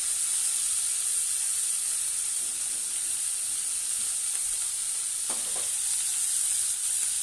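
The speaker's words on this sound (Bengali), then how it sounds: "ফাঁকা তেলে ভেজে নেবো" Dried fish frying in plain oil in a wok, a steady close sizzle and hiss with a few brief clatters of stirring near the end, no voices.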